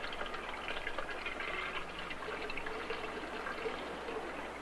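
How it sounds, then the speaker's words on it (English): Cold water pouring steadily into one side of a divided water tank, a continuous close trickling and splashing rush with no talking. "But if we fill one side with cold water"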